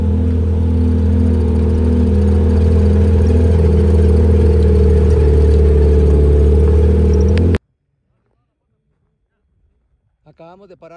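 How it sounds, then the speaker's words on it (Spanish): Car engines roar steadily and loudly during off-road driving near Pacaya volcano, then cut off abruptly into near silence, and a voice begins at the end. "el sonido de los motores de los carros cuando uno viene manejando"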